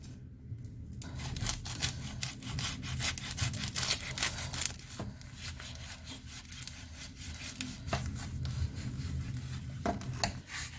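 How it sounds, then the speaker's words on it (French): A knife saws through a rustic half-baguette to split it in two, giving a steady crackly rasp of crust with repeated back-and-forth strokes, close and fairly quiet, with no talking. "pour commencer, on va découper le pain en deux."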